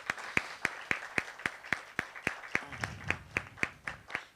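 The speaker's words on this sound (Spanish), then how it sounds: "Un aplauso para la maestra Mariel, por favor." At a university teaching panel, steady rhythmic clapping welcomes Maestra Mariel. It sounds like one or a few nearby pairs of hands, sharp and evenly spaced, with a soft low rumble joining partway through.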